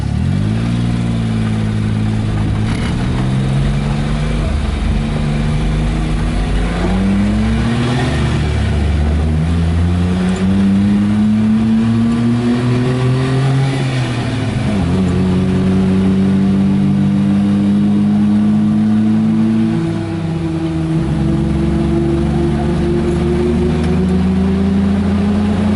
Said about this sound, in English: when we get up here on the pavement and start rocking through the gears.